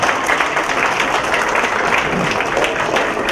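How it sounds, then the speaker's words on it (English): Audience at a Singapore SG50 flag-exchanging event applauding, a dense, steady wash of many hands clapping together at close range for a few seconds, with no speech over it. "Give me an applause and show me how much you like Singapore."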